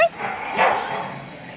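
Dog barking and yipping at an outdoor dog park, a short close burst of a couple of loud barks with a whimpering edge.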